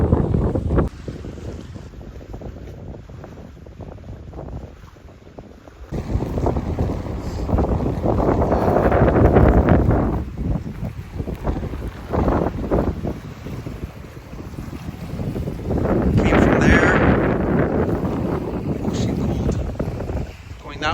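Strong wind buffets the microphone at an exposed spot on a Wabakimi canoe-trip campsite, rising in loud roaring gusts after a quieter start, with occasional voices beneath it.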